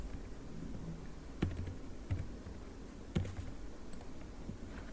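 Keyboard typing during PLC programming, with a few sharp, separated keystroke clicks over a steady background hum.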